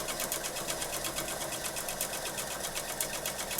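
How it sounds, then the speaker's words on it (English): A sewing machine stitches fabric along a seam at a fast, even pace, a close, steady mechanical chatter with no speech. "So then I'm going to stitch this one"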